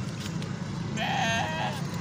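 A single goat bleats at a busy livestock market, a short wavering cry that stands out against a steady crowd murmur.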